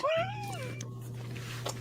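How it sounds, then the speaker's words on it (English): A cat lets out one loud, drawn-out meow up close that bends downward in pitch, followed by quieter fading tones over a steady low electrical hum. "This cat is crazy."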